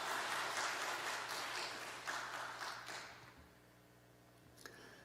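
A church congregation applauds the Shalom praise team after their worship songs, a dense wash of clapping that thins out and fades after about three seconds, leaving a quiet room with a faint knock near the end.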